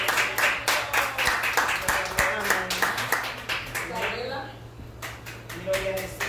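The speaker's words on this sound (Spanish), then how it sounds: "denle un aplauso al hermano" Congregation clapping for a brother at a church Bible study, scattered claps in an uneven rhythm heard under continuous talking, with a steady low hum in the background.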